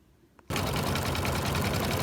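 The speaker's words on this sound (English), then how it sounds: "Now we are sewing down the top" An embroidery machine stitching the top of a baby bootie in the hoop starts abruptly after a half-second of quiet, then gives a loud, rapid, steady mechanical needle chatter close up.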